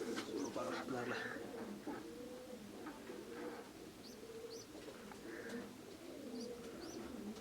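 Pigeons coo from a loft cage in soft, repeated low calls with a few higher chirps mixed in, close by and steady against a murmur of background noise.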